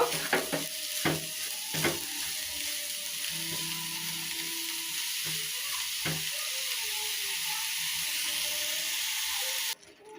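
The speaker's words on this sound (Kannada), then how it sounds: "ನೋಡಿ ಇವಾಗ ಸಕ್ಕರೆ ಎಲ್ಲ ಕರಗಿದೆ ಇದನ್ನು ಚೆನ್ನಾಗಿ ಇದರಲ್ಲೇ ಕುದಿಸ್ಕೋಬೇಕು" Amla pieces cooking with sugar in ghee, with the spoon scraping and stirring the pan every second or so over a steady soft sizzle and steam hiss, close and moderately loud, with no talking.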